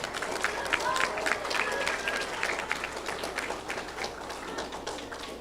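Applause fills a 4th grade awards ceremony as the audience claps steadily, a dense, even round of hand claps with crowd murmur throughout.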